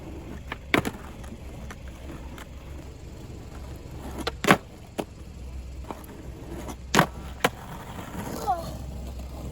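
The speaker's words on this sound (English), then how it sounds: "first we're gonna warm up by doing 2 switch front 180s and then 2 switch front shoves" Skateboard tricks, switch frontside 180s and switch frontside shove-its, with several sharp board pops and landing clacks spaced over a steady low wheel roll, close and loud.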